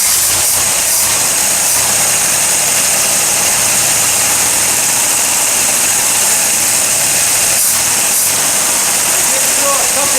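A small engine with sticky valves and varnished fuel idles steadily and loudly throughout, giving a dense, rough, continuous drone with faint irregular knocks, while people talk over it.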